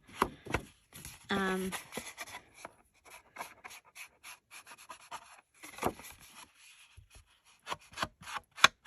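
Paper being distressed by hand for a small 6x6 mini journal: close, quiet scraping and rubbing strokes in irregular bursts, with one longer rasping pass near the start and faint handling noises between strokes.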